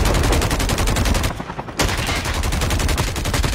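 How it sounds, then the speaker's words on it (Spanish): Rapid, dense bursts of video game gunfire crackle almost nonstop, with a brief dip before the shooting resumes at full, close loudness. No voices are heard. "De cerca hay tiros ahí"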